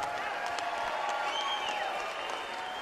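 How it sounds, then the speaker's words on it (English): A crowd applauding steadily throughout after a championship boxing match, dense clapping with some cheering mixed in, in a large reverberant space. "let's have a big round of applause for both of the fighters in this ring"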